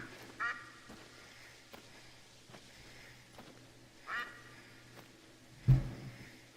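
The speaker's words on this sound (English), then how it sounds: "I can just hear quacking" Ducks quack in theHunter: Call of the Wild, three short calls spread across a quiet outdoor ambience, the last one louder and closer, with no talking.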